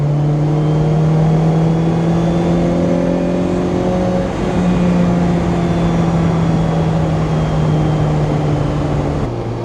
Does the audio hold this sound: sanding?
no